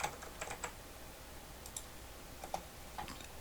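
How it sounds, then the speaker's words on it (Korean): Computer keyboard typing and mouse clicks while working in Illustrator, a few sparse, faint, separate key taps and clicks over quiet room noise, no talking. "클릭, 키보드 입력이죠."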